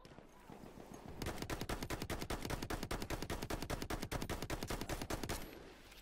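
Rapid automatic gunfire from a rifle in the Battlefield 1 video game, a loud sustained burst of closely spaced shots lasting about four seconds after a brief quieter lead-in, ending abruptly.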